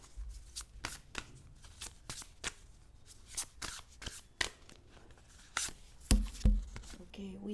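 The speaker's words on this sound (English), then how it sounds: "I'm just going to put the mic down for a second while I pull a card for you" Oracle cards handled and pulled from a deck, a series of close, crisp riffling snaps and slides at uneven intervals, followed by heavier knocks and bumps as a microphone is set down.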